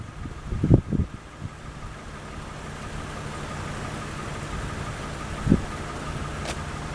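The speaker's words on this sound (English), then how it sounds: "Pretty decent V6 sound." A 2007 Lexus RX350 V6 engine idles steadily with a low, even hum, after two brief louder thumps near the start and another single thump near the end.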